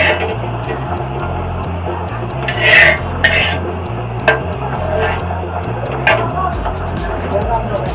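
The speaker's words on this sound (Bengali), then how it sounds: "আমি হালকা হালকা চাপ দিয়ে ভালো করে ভেজে নেব।" Aloo paratha pressed with a spatula while frying in a pan, a steady low sizzle with a few scraping, rasping strokes of the utensil across the surface, close and fairly loud.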